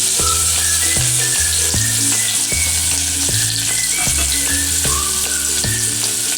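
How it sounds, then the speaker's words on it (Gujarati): Onions sizzle and crackle in hot oil, a steady loud frying hiss with occasional stirring scrapes. "તો હવે આપણે ડુંગળીનો વઘાર કરવાનો છે"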